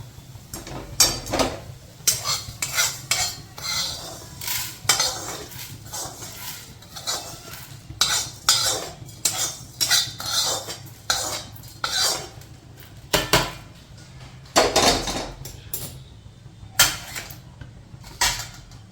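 A metal spoon scrapes roasted coriander seeds out of a hot pan with steady, repeated clinking and rasping strokes that stay close and fairly loud.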